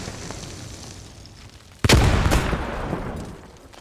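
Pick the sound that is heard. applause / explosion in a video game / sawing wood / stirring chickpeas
explosion in a video game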